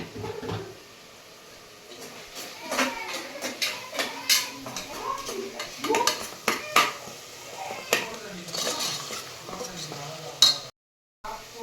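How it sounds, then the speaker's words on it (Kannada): Vegetables for a kurma being stirred and mixed in a pan, with repeated scrapes and clinks of a utensil against metal at close range, uneven in rhythm and with no talk. "ಹಾಕಿ ಚೆನ್ನಾಗೆ ಮಿಕ್ಸ್ ಮಾಡ್ಕೊಂಬಿಡೋಣ."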